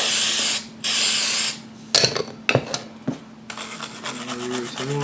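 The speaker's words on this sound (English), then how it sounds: "Grab me a nylon bristle brush. Just kind of go over all this a little bit." Cleaner sprays in two short bursts onto a 2008 Chevy Equinox instrument cluster, then a nylon bristle brush rasps and scrubs in irregular strokes, close and moderately loud.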